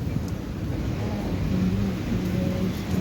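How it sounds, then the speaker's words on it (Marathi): Heavy monsoon rain pours steadily outside a moving Tapovan Express train near Nashik Road, a dense continuous hiss blended with a low rumble of the carriage, with no talking. "या ठिकाणी बघू शकता मित्रांनो पावसाचा जोर जो आहे तो आणखीन वाढलेला आहे."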